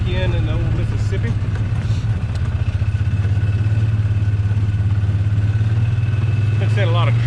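A four-wheeler engine idles steadily and loudly up close while being shifted out of 4-wheel drive, its low rumble constant and someone talking over it, on a cold day in Mississippi.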